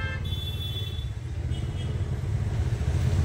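An auto rickshaw swings through a U-turn, its small engine giving a steady, close rumble that swells slightly louder toward the end, with no one speaking.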